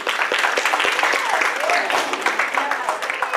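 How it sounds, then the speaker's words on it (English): An audience at a school signing-day event breaks into steady, dense applause, a continuous wash of many hands clapping at close-to-moderate distance, with voices mixed in underneath. "So y'all give her a round of applause for Dr. Epperson"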